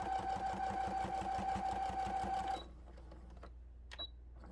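A sewing machine stitches fleece for a bumblebee toy in a quick, steady mechanical chatter for about two and a half seconds, then stops, leaving faint handling noise.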